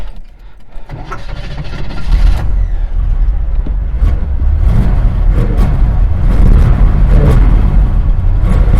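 A car's engine cranks briefly, then catches and settles into a loud, rough run close by at a dealer auction, its carburetor showing a dead spot in cold conditions.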